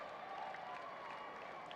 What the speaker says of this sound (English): They're cheering very strongly as they're down by 8 runs